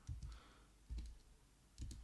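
Computer keyboard tapped in three soft, separate bursts of a couple of keystrokes each, close and quiet against a faint room background.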